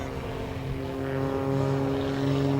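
An MX-2 aerobatic airplane's propeller engine at a regional air show gives a steady droning roar that swells slightly as it climbs, heard from a distance with no voices.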